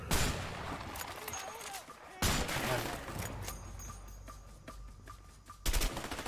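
Gunfire from a weapon in the video game A Way Out, bursts of shots crackling over a busy game soundscape, with loud volleys near the start, middle and end, and a voice talking faintly underneath.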